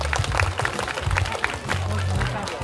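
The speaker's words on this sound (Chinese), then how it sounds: "所以我们也把掌声送给我们主办跟协办" An audience at an anime dance competition claps for the organisers and co-organisers, giving a steady burst of applause across the whole moment, with music or a low voice running underneath.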